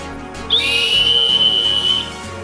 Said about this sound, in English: Last but not least, we have the emergency whistle